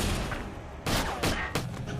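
Gunfire in a film shootout: three sharp, loud bursts ring out about a third of a second apart over a low rumbling background.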